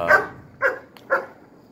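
A dog barks three times in separate bursts, fairly close and loud in a garage, each bark short with brief quiet between.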